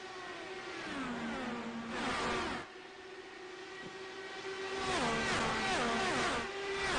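Indy race car engines whine on a restart in a racing video game set at Kentucky Speedway, several cars revving and shifting through rising and falling pitch sweeps, loud and layered with no talk.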